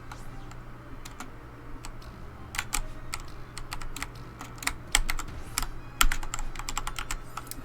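Computer keyboard keys clatter in quick, irregular bursts during a Celeste chapter 9 run, with some sharper, louder presses toward the end and no talking.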